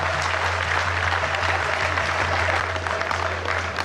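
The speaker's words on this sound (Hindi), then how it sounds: "एक बार जोरदार तालियां बजाइएगा" Crowd applause at an Indian public event as the chief guest is welcomed, a dense steady clapping that fills the whole stretch with low hum underneath.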